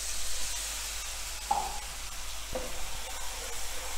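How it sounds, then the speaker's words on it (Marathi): Masala with red chili powder roasting in oil in a pan for a black vatana curry, a steady soft sizzle with a couple of faint clinks of a spoon, no talking. "लाल तिखटाला थोडंसं भाजून घेऊया"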